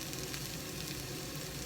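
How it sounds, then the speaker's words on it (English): Peppers sizzling in a hot pan, a steady close hiss and crackle that holds evenly throughout with no talk. "But they're still sizzling. Can you hear the sizzle?"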